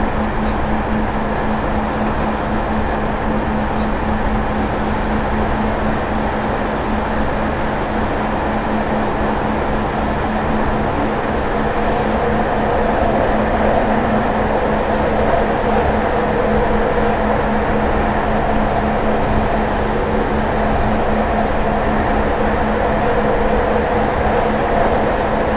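A Class 158 diesel train in Train Simulator 2018 runs along the North Wales coast line between Abergele and Shotton, giving a steady, loud cab rumble with a constant engine drone and rolling wheel noise that continues unbroken without talk.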